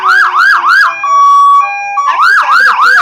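An antique fire truck siren wails at a community parade, loud and close, cycling through rapid rising whoops, breaking into a steady held tone, then returning to the repeated whooping pattern.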